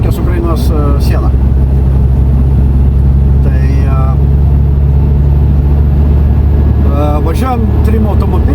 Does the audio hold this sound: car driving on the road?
yes